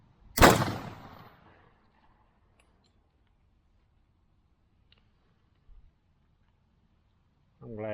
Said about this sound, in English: PJ, fire in the hole.